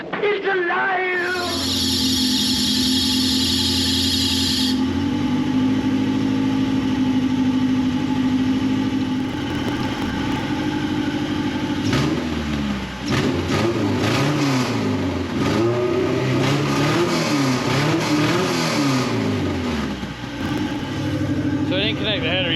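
A rebuilt Honda B18C1 car engine, running without its header connected, starts for the first time and idles loudly before being revved up and down in repeated swells, with people talking and cheering over it.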